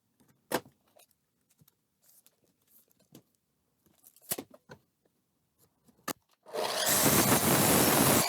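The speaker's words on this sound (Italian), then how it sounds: "Ecco qua uno dei traversi che utilizzerò per le cornici. Ora lo segnerò e comincerò a tagliarlo." A wooden pallet crosspiece is cut: sparse knocks and handling clicks, then loud, continuous, close-up sawing noise takes over for the last couple of seconds.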